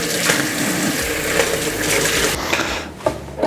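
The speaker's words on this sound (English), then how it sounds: "make sure you rinse off your herbs" Water runs steadily from a kitchen tap as fresh herbs are rinsed for an Indian-inspired reshmi curry, a continuous close gushing wash with small splashes and clinks near the end.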